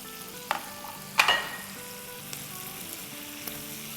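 Half-red, half-green bell pepper frying in a pan for chicken keema do pyaaza, a steady low sizzle with a sharp burst as pieces hit the oil at the start, then quieter stirring clicks.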